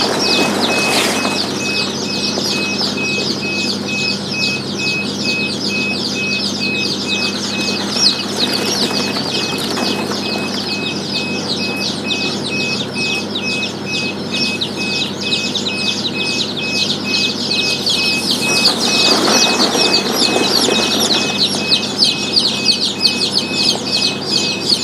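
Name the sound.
chicks in a poultry brooding house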